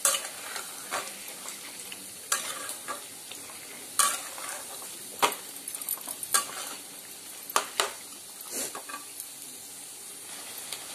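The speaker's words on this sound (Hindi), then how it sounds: "ऐसे ही हम 5 से 10 मिनट तक चिकन को अच्छे से मिक्स करेंगे।" Chicken and potato curry is stirred in a kadhai, with a spoon scraping and clinking against the metal pan in irregular strokes over a soft, continuous sizzle, close and fairly quiet.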